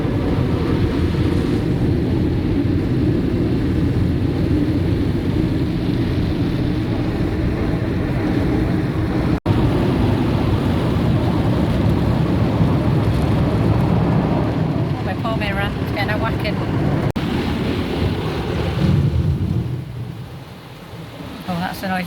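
An automatic car wash machine heard from inside the car gives a continuous deep rumbling roar with rushing water spray, loud and close, easing off near the end.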